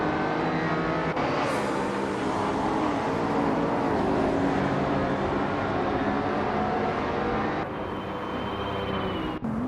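A 1996 Porsche 911 GT race car running hard in a race, a continuous loud engine drone with shifting pitch through gear changes, close and steady throughout, with no voices.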